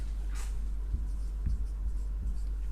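Pen strokes scratch across an accounting ledger page as an amount is written in, several short soft scribbles over a constant low hum, close and quiet.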